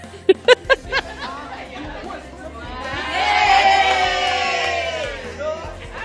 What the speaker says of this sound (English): I like the cheer.